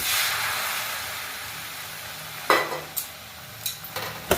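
Spice paste for jackfruit kofta curry stirred in a hot pan: a loud sizzling hiss at first settles lower, then a few sharp scrapes and knocks of a spoon against the pan ring out near the end, with no talk.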